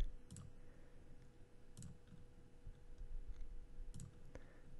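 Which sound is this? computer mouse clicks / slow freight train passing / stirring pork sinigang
computer mouse clicks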